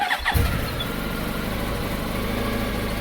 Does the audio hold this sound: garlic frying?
no